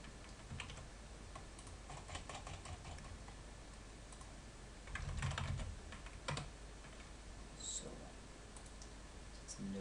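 Keys clatter on a computer keyboard in quick irregular bursts while notes are typed in a browser, fairly quiet and close, with denser clicking partway through and faint room noise around it.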